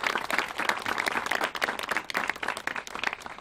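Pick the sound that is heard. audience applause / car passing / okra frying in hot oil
audience applause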